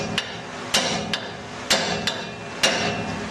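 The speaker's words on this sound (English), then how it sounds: "I'm gonna go get my hammer." Sharp metallic hammer blows on a suspension part of a 2006 GMC Sierra 2500 during a lift installation, six distinct strikes at uneven intervals over a steady background hum, close and loud.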